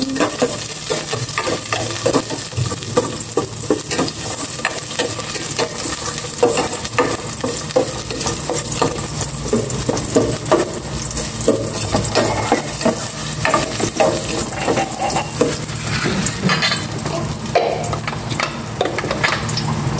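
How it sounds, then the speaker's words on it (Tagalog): Garlic sautéing in hot cooking oil in a pan, a loud, dense, continuous close-up sizzle with faint stirring clatter and no talking. "Gisa ko na ang bawang."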